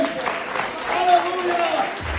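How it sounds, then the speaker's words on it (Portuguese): A church congregation applauds during an evening sermon, a steady patter of clapping running under a preacher's voice that stays on top throughout. "Aplauda Jesus nessa noite."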